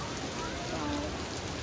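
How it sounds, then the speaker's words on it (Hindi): Steady rain falls outdoors along a road trip route in the hills near Dehradun, a dense even hiss that stays constant throughout, with faint voice-like traces mixed in. "देख सकते हो गाइस यहाँ पे ना बारिश हो रही है"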